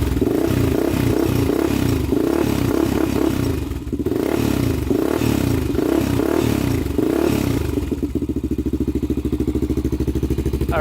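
A Honda 400ex quad engine idles while warming up, a loud, close, pulsing mechanical rumble with clattery surges in the first half that settles into a steadier, smoother putter toward the end, with no voices.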